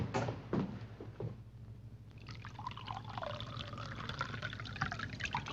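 Brandy is poured from a bottle into a glass, starting with a soft clink and clunk, then a gentle gurgling stream that rises in pitch as the glass fills, quiet and close.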